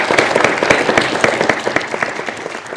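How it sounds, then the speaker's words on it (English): Audience applause at a student union candidate question-time event for leadership elections, a dense, steady round of clapping from a sizable crowd lasting throughout, close and fairly loud with no talk over it. "round of applause for Emily."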